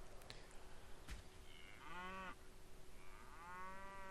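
Cattle mooing in the Stronghold video game, two drawn-out low moos, fairly close and clear over faint background ambience, with a couple of brief clicks before them.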